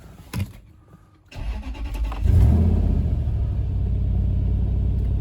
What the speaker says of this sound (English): I'm gonna start the engine and see if all the check engine lights are gone.